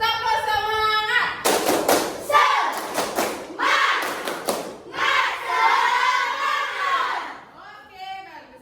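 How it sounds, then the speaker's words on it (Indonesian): Children clapping a rhythmic spirit clap (tepuk semangat) in a classroom, with bursts of loud claps and group voices chanting along in between. "Biar lebih semangat, guru mau dengar tepuk semangatnya. Tepuk semangat."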